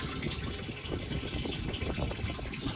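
Water rushes steadily through a homemade rain barrel made from a repurposed olive barrel, a continuous close gushing and splashing flow with no talk.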